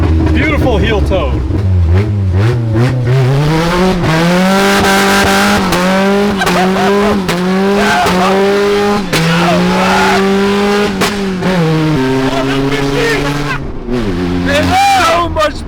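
A 60hp Honda Civic drifts on wet roads, its engine revving hard in rising and falling sweeps while tires squeal, close and loud throughout.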